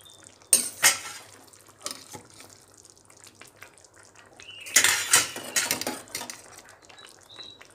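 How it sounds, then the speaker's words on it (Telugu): Cooked dal goes into a pot of simmering tamarind broth for sorakaya sambar. A metal spoon clatters and scrapes against the pot, and liquid splashes softly in two louder bursts with quieter clinks between, close and without talk. "చింతపండు పులుసు కూడా కొంచెం బాయిల్ అయింది కాబట్టి దీంట్లో మనం బాయిల్ చేసుకున్న దాల్ వేసేస్తున్నాను అనమాట"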